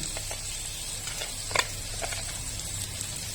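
Ginger and cumin paste fry in a pan with a soft, steady sizzle, broken by scattered clinks and scrapes as the mixture is stirred, one sharper knock standing out midway.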